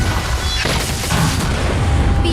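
A loud explosion blast in the video game Honkai Star Rail, a deep boom followed by crashing debris and rumbling bursts layered over a dense game soundscape.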